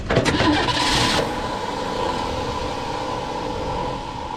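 Ford Fairlane project car engine cranking loudly with rapid starter chatter that nearly catches, then settling into a steady whirring crank that continues without the engine firing.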